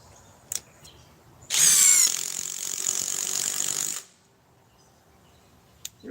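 An impact driver on speed 3 drives a 4-inch timber lock screw, giving one burst of rapid, loud rattling hammering for about two and a half seconds, framed by faint clicks and quiet before and after.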